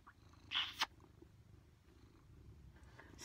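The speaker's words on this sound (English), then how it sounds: "Can you hear her purring?" A rescue cat purring on a lap, a soft low continuous rumble close by, with a brief rustle and click near the start.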